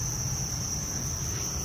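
Crickets raised in folded cardboard boxes chirp in a continuous, high, shrill trill, close and steady throughout.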